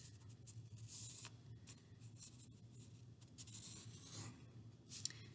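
Pencil tracing around a hand on paper during a kids' craft, a soft, faint scratching that comes and goes in short strokes, with quiet pauses between.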